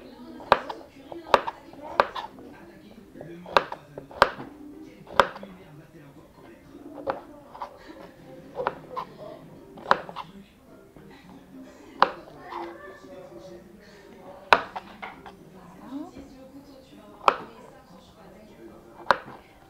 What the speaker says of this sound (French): donc on coupe encore un dé